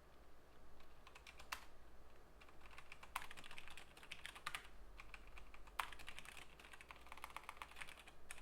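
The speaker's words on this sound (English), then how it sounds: "now we got to do some typing." Someone types on a computer keyboard, quiet rapid clicks in irregular bursts with brief pauses, the keystrokes distinct over a faint low hum.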